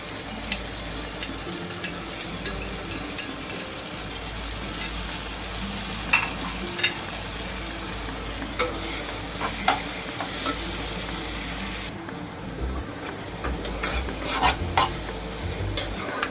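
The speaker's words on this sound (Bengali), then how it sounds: "বেগুনটাকে খুব ভালোই মশলার সাথে মিশিয়ে নেওয়ার পর" Brinjal fries with spices in a pan, giving a loud continuous sizzle with repeated scraping stirs of a spatula that grow busier toward the end, with no talk.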